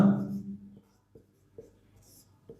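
Chalk or marker writing on a board during a general science lecture, with short faint strokes and taps between the teacher's speech.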